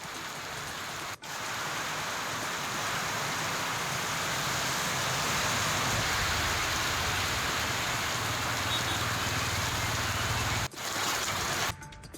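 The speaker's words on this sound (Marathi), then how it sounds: "सातारा जिल्ह्याला मुसळधार पावसानं झोडपून काढले" A heavy monsoon downpour roars as a dense, constant hiss, loud and unbroken apart from brief dropouts near the start and end.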